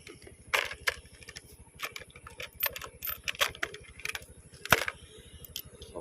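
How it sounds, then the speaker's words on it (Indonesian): Loose coins rattle on a car dashboard, giving light, irregular metallic clicks and jingles close by over a steady low engine hum, with no talking. "ada uang berisik ini"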